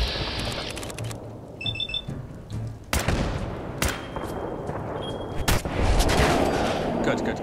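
Automated turrets firing in Fallout 4, with bursts of gunfire and sharp cracks scattered over busy game noise and electronic beeps, loud and close at moments.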